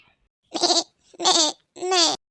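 A voice gives three drawn-out bleating cries, imitating a goat, each separated by a short pause.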